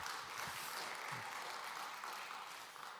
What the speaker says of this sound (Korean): 우리 다 같이 박수로 격려하겠습니다